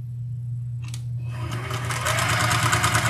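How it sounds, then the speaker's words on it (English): A sewing machine stitching a quarter-inch seam across a beginner nine-patch quilt block, starting after a quiet moment and running in a steady, fast mechanical whir that grows slightly louder, with no voices. "I'll just sew 1/4 inch seam across there."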